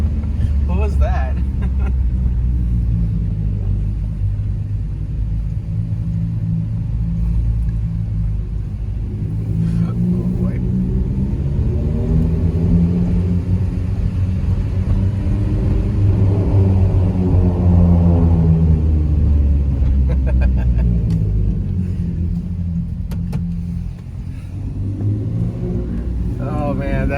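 Straight-piped Mazda 3 with the Skyactiv 2.0 engine, its loud, droning exhaust booming steadily while driving, rising in pitch as it accelerates and easing off, with occupants talking over it.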